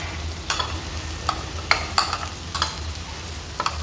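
Ground masala frying in oil for an anchovy fish curry: a low, steady sizzle broken by about half a dozen sharp scrapes of a spoon stirring the pan, close and clear.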